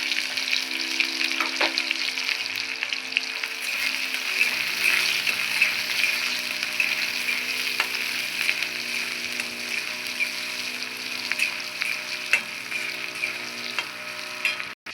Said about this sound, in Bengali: পেঁয়াজটা দিয়ে ভেজে নিয়েছি